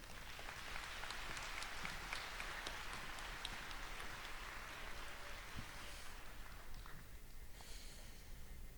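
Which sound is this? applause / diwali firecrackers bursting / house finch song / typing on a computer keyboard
applause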